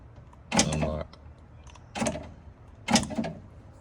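Power door locks on a Dodge Magnum actuate three times, each a brief buzzing mechanical clunk, loud and close with pauses between.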